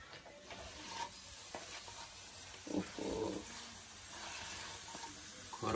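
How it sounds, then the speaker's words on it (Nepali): Spicy potatoes frying in a pan with chili, stirred with a utensil: soft continuous sizzle broken by scraping stirs and a few louder clatters, quiet and close. "त्यो आलु चाहिँ चलाउँ त"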